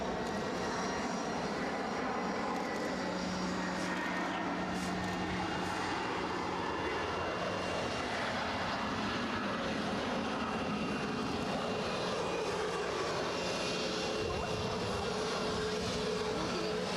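An EasyJet passenger jet takes off at Edinburgh Airport, giving a steady, broad engine roar from a moderate distance that holds for the whole stretch with no one talking.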